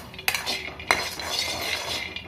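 Peanuts tossed in a kadai on the stove for energy laddu, close metallic clinks and scrapes of a spoon against the pan with a soft rattling stir between two sharp knocks.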